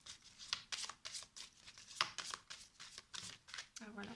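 Tarot cards are shuffled by hand in quick, riffling bursts of crisp flicks and slaps, close and fairly quiet, repeating through the whole stretch.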